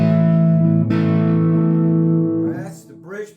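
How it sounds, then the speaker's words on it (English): Stratocaster electric guitar played through distortion on the bridge pickup alone: a sustained, loud distorted chord rings, is restruck once, then decays and fades with a bent, wavering tail. "That's the bridge pickup by itself with no series. Normal bridge pickup."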